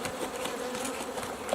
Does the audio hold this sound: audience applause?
no